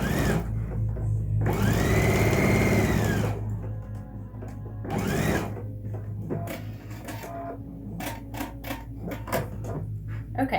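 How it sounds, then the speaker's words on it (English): Sewing machine stitching directly over the elastic of a fitted fabric face mask, close and fairly loud in two main bursts of rapid whirring, followed by quieter clicks and handling noises. "what I'll be doing is stitching directly over the elastic"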